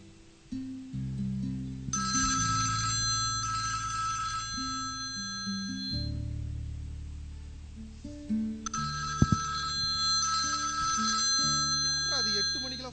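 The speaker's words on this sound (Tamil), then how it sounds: "இவ்வளோ நேரம் ஃபோன் ரிங் அடிச்சுட்டே இருக்கு, எடுக்க மாட்டேங்கிற" A telephone rings repeatedly in a domestic scene on a Sunday morning, the electronic ring pattern sounding in bursts over background music with low tones, fairly loud and close.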